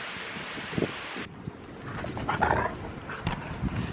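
Dogs bark on a farm in strong gusting wind, a few faint, scattered barks heard through steady wind noise and rustling.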